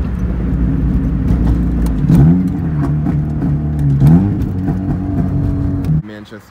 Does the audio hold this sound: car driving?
yes